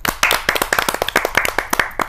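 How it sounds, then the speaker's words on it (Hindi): An audience at a Hindi kavi sammelan poetry gathering claps, a brisk run of close, crisp handclaps with an uneven rhythm that lasts about two seconds. "तो तालियों की गड़गड़ाहट से स्वागत करते हैं"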